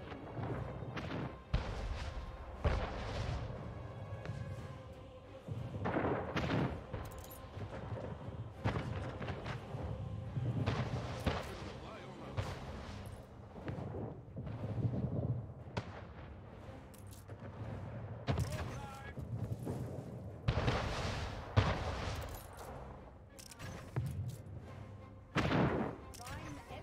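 Ship guns fire in an Anno 1800 naval battle, with scattered booming volleys and thuds spread irregularly over a long stretch, and a voice talks over them in between.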